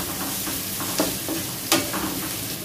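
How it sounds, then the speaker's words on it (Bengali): Onion frying in a pan with salt gives a steady close sizzle, broken by a couple of faint stirring scrapes. "এখন একটু পেঁয়াজটা ভেজে নেব।"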